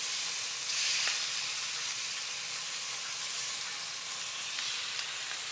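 Meat sears in a hot pan with garlic, giving a steady, even sizzle and hiss throughout. It is moderately loud and no one speaks.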